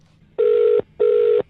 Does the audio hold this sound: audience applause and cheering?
no